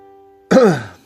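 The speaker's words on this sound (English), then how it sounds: "See, I cough a lot in my videos." A single loud, close throat-clearing cough from a person during a game commentary, bursting out after near silence and trailing off over about half a second.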